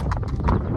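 Horse hooves clip-clop in a steady bouncy rhythm while the horse is ridden during early rehab work, close and fairly loud.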